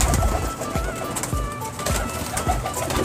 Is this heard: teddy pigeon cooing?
yes